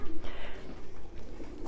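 Pigeons coo softly inside a loft near a club building for races, low murmuring calls under a faint background hum, fairly quiet and brief.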